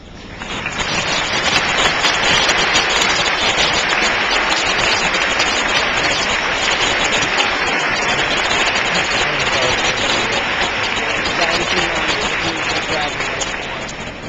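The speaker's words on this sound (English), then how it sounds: "join me in thanking these people with a round of applause" Loud, sustained applause from a middle school graduation audience, a dense continuous roar of many hands clapping that holds steady for well over ten seconds, close and filling the room.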